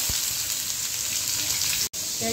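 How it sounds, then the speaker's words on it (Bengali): Onions fry in oil in a pan, producing a dense, continuous crackling sizzle close up with a brief interruption near the end. "এই পেঁয়াজটাকে এখন একটু ভেজে নিবে, একটু নরম করে নিবে।"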